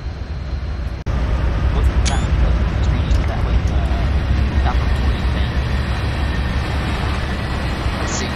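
A freight train rumbling past at Naperville in Train Simulator 2016, a heavy, continuous low roar with steady rolling noise after a sudden onset, with occasional faint horn-like tones and a speaking voice over it.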